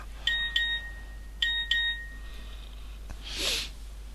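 A mobile phone gives a notification chime: two pairs of bright, short dings, followed by a softer tone, over a steady low hum from a computer room.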